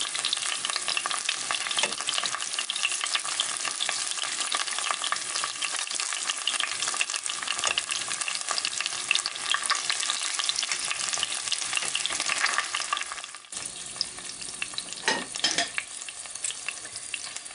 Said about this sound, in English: you're just sautéing them on each side in your butter